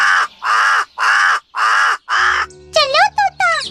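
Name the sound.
crow cawing in a cartoon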